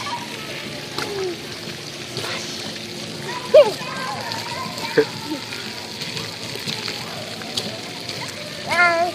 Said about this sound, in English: Splash, mommy. You splash.